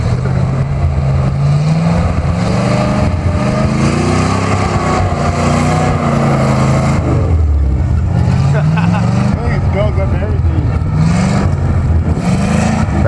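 A 1968 International 4x4 truck on 40-inch tires with welded differentials drives, its engine roaring loud and steady with pitch swells as it revs and shifts, close throughout.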